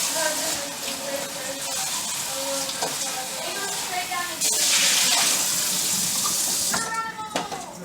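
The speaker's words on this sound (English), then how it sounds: "Just going to rinse it out from the dust." Water runs steadily from a tap, splashing as a lasagna pan is rinsed out in a sink, with a louder gush partway through and a few faint background sounds.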